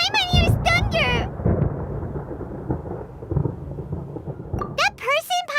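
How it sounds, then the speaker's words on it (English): Rolling thunder in the Genshin Impact game, a long low rumble swelling and fading between stretches of character speech at the start and end. "Paimon hears thunder!"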